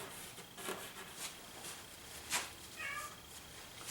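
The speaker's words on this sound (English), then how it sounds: "Yep, I hear you back there. That's my cat." A cat meows a couple of times in the background, faint and slightly distant, amid a quiet room with light rustling during a landscape painting session.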